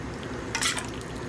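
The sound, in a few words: pouring a little water into chicken and dumplings pot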